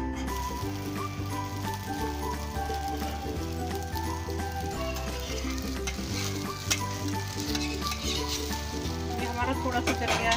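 Egg and urad dal omelette sizzles and crackles in oil on a tawa, a steady frying hiss throughout with background music and a brief voice mixed in.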